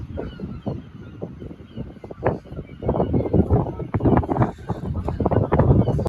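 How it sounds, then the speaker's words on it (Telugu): Gulls or similar seabirds call repeatedly around a Brighton seafront, their cries rising over steady wind and outdoor hubbub, some near and some farther off. "ఆ పక్షుల సౌండ్ వినండి"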